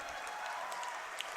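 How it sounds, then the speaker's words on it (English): Applause from a hockey crowd at the Canadian Founders Cup junior B lacrosse championship in Orangeville, a steady, fairly faint wash of clapping that runs through the whole short stretch. "rounds of applause here"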